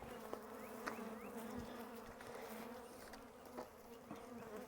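Honey bees buzz softly and steadily throughout a double-deep hive inspection, a faint continuous drone with occasional closer individual bees passing by, no talking.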